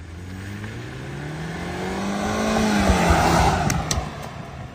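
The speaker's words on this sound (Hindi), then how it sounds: "जब इसको आप स्पोर्ट्स मोड में भगाते हो तो इस गाड़ी की आवाज़ चेंज हो जाती है।" A large petrol car engine in sports mode accelerates with its note climbing steadily in pitch and loudness, peaking and easing slightly near the end as a few sharp clicks cut through, close and with no talk.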